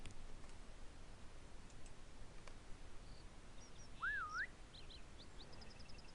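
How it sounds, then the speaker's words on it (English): A game character in The Stones of Wildermore gives a single short whistle that rises and falls, faint and brief against a quiet hiss of background ambience with scattered light clicks. "I'll try whistling to this thing"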